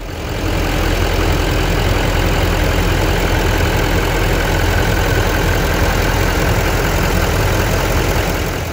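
A 2015 GMC Sierra 3500HD pickup truck idles with the hood open, a loud, steady low rumble heard up close and alone for the whole stretch.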